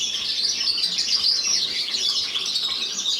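Canaries chirp continuously in a bird room during hand washing, a dense flurry of high, bright tweets with no talking over it.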